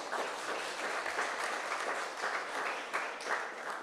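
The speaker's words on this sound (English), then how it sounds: "A round of applause again, please." An audience at a townhall meeting applauds for the panel in a sustained, dense wash of clapping that stays steady throughout.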